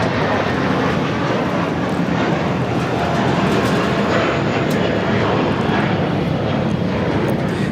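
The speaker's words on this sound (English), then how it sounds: "This is Spirit Airlines 1045 taking off to Philly on the A320" Spirit Airlines A320, flight 1045 to Philadelphia, taking off from LAX with a loud, sustained, rumbling jet engine roar that stays steady throughout, close and dominant, with no clear voices over it.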